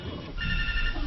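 A telephone rings in the neighbours' home next door, its electronic ringing tones fairly faint under room noise and muffled voices.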